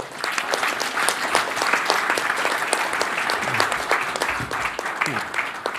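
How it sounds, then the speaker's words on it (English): Sustained audience applause fills a conference hall at a cybersecurity event, thanking the speakers after a talk; steady, dense clapping throughout with a faint voice underneath. "let's give a round of applause to our speakers"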